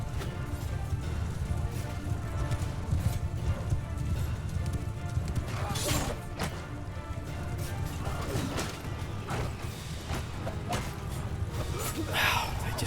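Horse hooves galloping in the video game Mount & Blade II Bannerlord, a dense steady clatter of many hooves under battle noise, with occasional crashes and a voice talking over it.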